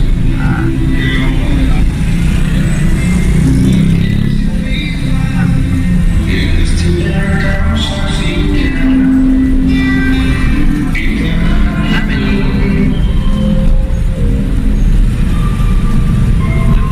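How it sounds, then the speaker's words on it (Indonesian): Road traffic on a street in Indonesia, with vehicles deliberately slowing as they pass: a continuous, loud, dense rumble of engines and tyres under mixed background voices throughout. "Pengendara-kendaraan sengaja melambatkan kendaraannya di sini."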